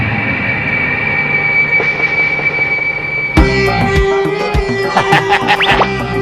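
An anime train runs on rails toward Tokyo Station. A loud steady rumble builds, then a sudden burst of clattering wheels and high metallic squeals takes over for the last few seconds.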